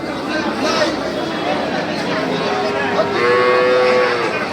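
At a rural cattle market, bull calves and other cattle moo loudly over a busy hum of people talking nearby, with a longer drawn-out low toward the end.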